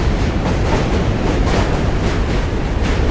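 Loud, steady rumble of a passing train, wheels clattering over the tracks with no pause.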